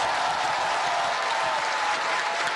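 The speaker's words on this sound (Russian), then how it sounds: "Молодые ученые встретили президента бурными овациями" A hall of about 700 young scientists gives a president a rousing ovation. Dense, even clapping fills the room at steady strength from start to finish.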